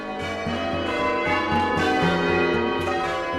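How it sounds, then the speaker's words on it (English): Church bells peal in a steady, overlapping sequence of rhythmic strikes during change ringing, the tones ringing on and layering over each other with no voices present. "let's get into bell ringing"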